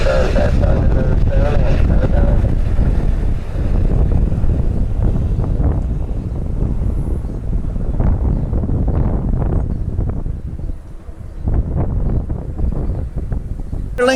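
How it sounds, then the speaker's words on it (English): Gusty wind at an airport buffets the microphone in a steady roar that rises and falls, loud and close, with faint voices underneath. "It's a little breezy right now."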